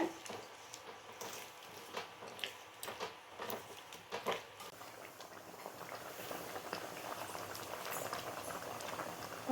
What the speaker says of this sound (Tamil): குழம்பு நல்லா கொதிச்சு வந்துட்டு பாருங்கள்